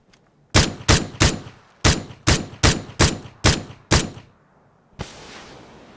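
Gunfire in PUBG as a magazine is emptied: nine loud, evenly spaced single shots in quick succession, then a steady hiss follows after a short pause.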